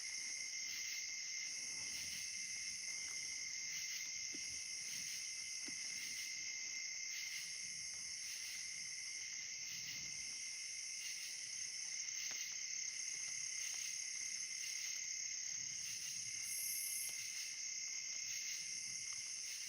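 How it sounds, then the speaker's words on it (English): Crickets and katydids chirp steadily at night in a wooded hollow yard, a dense, continuous high trill layered with a pulsing, rhythmic insect call repeating every second or so, constant from start to finish. "I'm hearing crickets. I'm hearing katydids, so that's a good sign."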